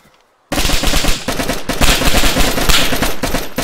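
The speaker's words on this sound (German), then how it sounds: "man hat die Schüsse gehört" Dense bursts of gunfire in the survival game DayZ at a military base, loud and sustained after a brief silence, with rapid overlapping shots like automatic fire.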